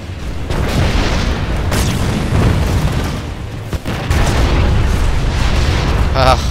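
Grenade blasts in the game Planetside 2, a run of heavy booming explosions with sharp bursts standing out amid loud battle noise, and a voice talking briefly near the end.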